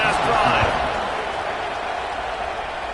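Crowd noise swells in a stadium of an American college football video game during a kickoff after an extra point, a dense steady roar that starts a bit louder and settles, with no clear distinct cheers.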